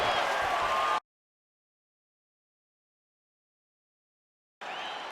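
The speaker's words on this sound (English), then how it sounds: "the crowd voicing its appreciation after that round" A crowd applauds and cheers in the UFC 5 fighting video game after a round. A roar of applause fills the first second, cuts to silence, then returns near the end.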